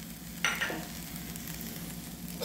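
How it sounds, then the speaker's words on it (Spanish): Rice with raisins and small tomato simmers in a pot while a spoon stirs it: a faint, soft bubbling sizzle with a brief louder scrape of stirring near the start, quiet and close, with no talk. "Lo removemos de nuevo."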